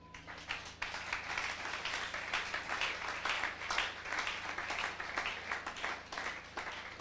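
A church congregation applauds, with steady dense clapping and scattered sharper claps that hold for the whole stretch, moderately loud and fairly close, with no clear voice over it.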